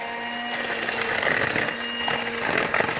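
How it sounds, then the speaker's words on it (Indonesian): An electric hand mixer runs at medium speed, beating pandan sponge cake batter in a bowl, a continuous close whirring hum with slight wavering through the stretch. "kita mixer dengan kecepatan sedang"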